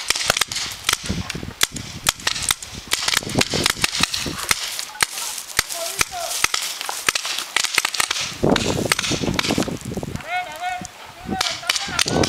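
Rapid paintball gun fire during an outdoor paintball game, many sharp overlapping pops in dense volleys, loud and continuous, with brief shouts mixed in.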